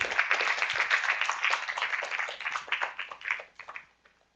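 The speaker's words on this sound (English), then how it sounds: "Yes, that's right, with our applause." Conference audience applauding as next year's chair is welcomed at an Asia Pacific internet governance forum: moderate, fairly distant clapping that swells, then thins and fades away.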